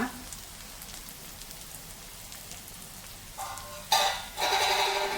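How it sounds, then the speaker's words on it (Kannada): Ridge gourd masala in a covered pan on a low flame gives a soft, steady sizzle and crackle, faint at first, then louder and fuller toward the end. "ಲೋ ಫ್ಲೇಮಲ್ಲಿ ಬೇಯ್ತಾ ಇದೆ"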